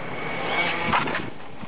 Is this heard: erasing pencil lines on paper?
no